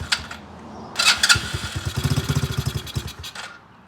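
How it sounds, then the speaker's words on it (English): An X-pro Bolt 110cc motorcycle engine with a fault catches after a cranking burst, runs in a rapid uneven putter for about two seconds, then sputters and dies, close and loud. "It's just going to fire up and shut off"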